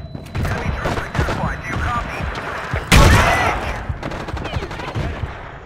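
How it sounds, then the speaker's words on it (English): Battlefield 2 gunfire aimed at the player, rapid automatic bursts crackling throughout with a loud, close heavy burst near the middle, dense and continuous with game noise. "Look who's shooting at me again."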